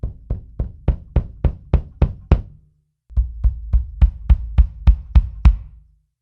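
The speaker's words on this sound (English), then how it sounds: "Listen to the same recording of the kick drum" A Ludwig 1975 Maple Classic kick drum recorded through a vintage AKG D12 mic, with two sequences of steady, round, boomy thumps rising in loudness and a brief pause between them.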